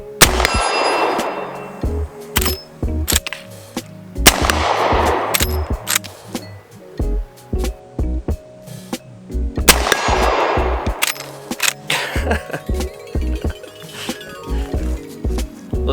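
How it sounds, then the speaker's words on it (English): Henry .45 lever-action rifle shots ringing off a steel target at about 50 yards: a handful of sharp loud cracks spaced a few seconds apart, each followed by a metallic clang and action-cycling clatter, outdoors. "curious to see if I can get a hit at about 50 yards"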